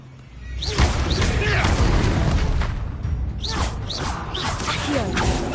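Levioso levitation spell cast in Hogwarts Legacy: a swelling magical whoosh with creaking, rumbling texture and high shimmering swoops, fairly loud and sustained, with a second flourish partway through.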